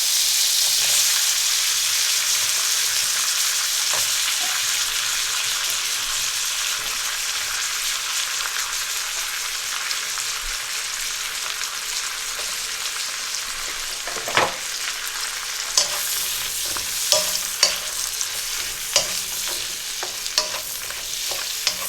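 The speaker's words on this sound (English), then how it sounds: "I'm going to move on to frying the vegetables. So in goes the butter. It's on a nice hot heat." Steady sizzling of mushrooms frying in butter, a continuous hiss with occasional stirring clatters toward the end.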